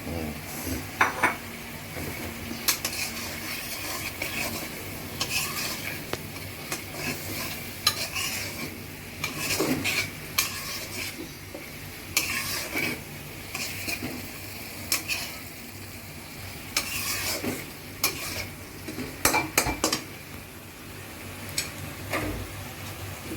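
Taro stolon curry is stirred in a cooking pot, a spoon scraping and clinking in repeated strokes over a soft, steady sizzle.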